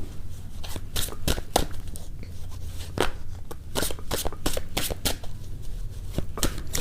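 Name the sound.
shuffling and drawing tarot cards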